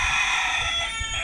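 Roosters at a fence, ready to fight, crow in a sustained, strained call that fills the short moment, loud and close over outdoor background noise.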